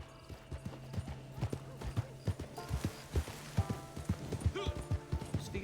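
Horse hooves in Fortnite beat a rapid, regular clip-clop gallop, loud and near, with a player talking over them.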